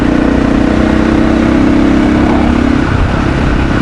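A KTM 500 EXC-F dirt bike engine runs on the road at steady speed, a loud continuous drone with a buzzing hum that shifts slightly near the end, heavily mixed with wind rush.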